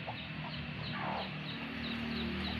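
Backyard chickens cluck in a short run of soft, repeated calls near a newly planted eggplant bed, set against a steady low background hum.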